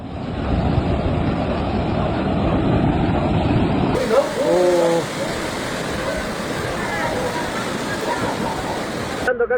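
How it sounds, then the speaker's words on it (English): Floodwater and mudflow rush through Tocopilla in northern Chile after heavy rain, a loud, unbroken roar of churning water that fills the whole scene, with faint voices briefly audible within it. "heavy rain triggered powerful flows of water, mud, and sediment through the city and surrounding valleys."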